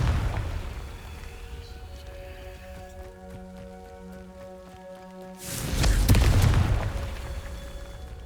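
In Hogwarts Legacy, a Confringo explosive spell detonates with a loud, deep blast that rumbles and decays, coming after a quieter stretch of sustained musical tones.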